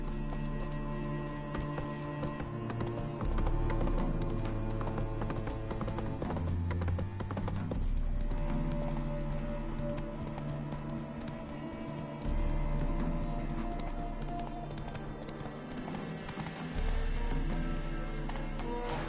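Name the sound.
horse Roach galloping in The Witcher 3: Wild Hunt video game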